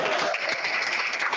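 Audience applause at a welcome session of an African Wikimedia affiliates gathering, a dense, steady wash of clapping at fairly close range lasting the whole moment without talk.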